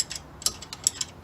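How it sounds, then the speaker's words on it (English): A wrench ratchets on a tight alternator bolt on a Mazda 3, giving a few quiet, sharp metallic clicks spaced irregularly over a second. "Sometimes you could put a wrench on it, give yourself a little extra leverage"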